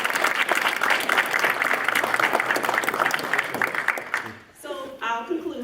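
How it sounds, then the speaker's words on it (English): An audience at a co-op food store annual meeting applauds its employees, a dense, steady round of clapping that fades after about four seconds before a voice speaks. "I just want to give a round of applause for all of our employees and just the hard work that they do."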